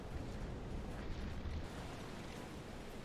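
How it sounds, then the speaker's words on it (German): Torpedo explosion in the UBOAT submarine video game: a sustained, heavy low-frequency roar and rumble that stays loud and dense throughout, easing only slightly toward the end, with no talk over it. "Die Explosion."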